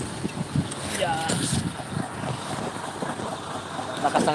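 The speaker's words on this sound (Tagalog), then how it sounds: "Lakas ng hangin." Strong wind roars around a parked truck, buffeting the microphone in a constant, rough, blustery rush, while people talk over it.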